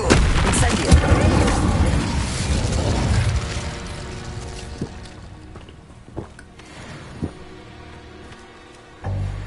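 Incendio fire spell cast in Hogwarts Legacy, a loud booming burst of flame that roars for a few seconds and then fades, followed by scattered sharp impacts and a final surge.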